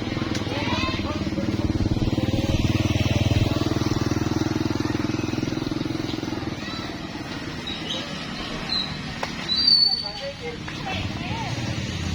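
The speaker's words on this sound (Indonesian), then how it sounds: "Ada motor di belakang." A motorcycle engine drones from behind on a road, loud and steady for several seconds before fading away, with brief voices and street noise afterward.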